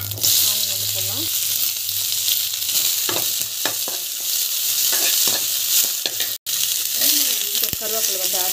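Chopped onion drops into hot oil and sizzles steadily in a pan, with a loud continuous fry broken by scraping stirs and clinks of a spoon against the vessel.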